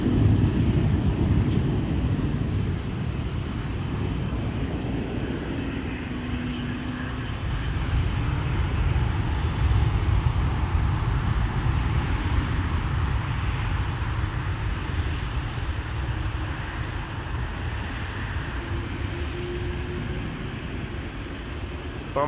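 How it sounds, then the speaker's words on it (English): A Singapore Airlines airliner lines up at the threshold of runway 18 left at Amsterdam Schiphol, its engines a steady, distant broadband roar with wind rumble that holds without letup. "You're watching Singapore Airlines flight 323 being lined up here at the threshold of runway"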